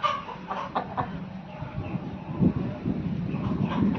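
Bhimavaram breed hens cluck nearby in short, irregular bursts over a low background murmur, the calls fairly close and moderately loud.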